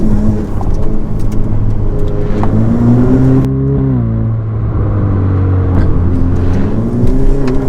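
A Ferrari F8 Tributo's V8 engine revs hard and accelerates from inside the cabin, its loud steady drone rising in pitch, easing, then climbing again.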